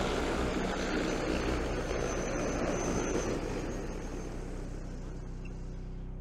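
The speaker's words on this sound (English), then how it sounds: "There, the drone's up." DJI Agras T30 agricultural spraying drone in flight, its rotors producing a steady, loud broadband whir and hum throughout that slowly fades slightly as it moves, with no talking.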